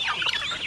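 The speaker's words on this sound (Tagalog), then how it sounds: "lumapit din yung iba nating mga manok para magkikain sa mga nahulog sa siminto" Chickens on a farm cluck near the pig pen as they peck at feed spilled on the concrete, a short burst of close, busy clucking calls with no talk.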